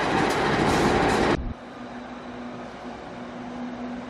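A loaded rail sound of a coal train in the distance at Muswellbrook, early morning: a dense rumble cuts off abruptly, leaving a faint, steady far-off train drone with a low hum.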